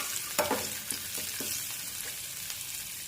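Dry red chilies fry in oil in a pan and give a quiet, even sizzle, with a few soft spoon scrapes and taps as they are stirred, close but low in level and with no speech.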